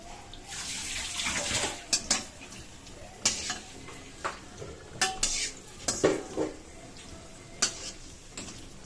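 Metal plates being brought and set down, a run of sharp clattering knocks at irregular intervals over a faint watery background, close by.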